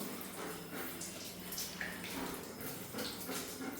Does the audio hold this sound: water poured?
yes